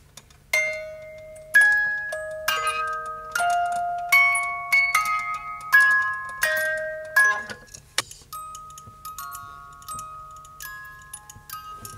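A small hand-cranked music box plays its plucked metal-comb melody pressed against a piece of plastic, bright chiming notes ringing out in steady phrases over about eight seconds before fading, with a few last tones lingering.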